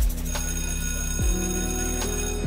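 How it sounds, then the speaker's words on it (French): A steady electronic school bell rings continuously, its tone shifting partway through, loud and close with no talking. "c'est la sonnerie"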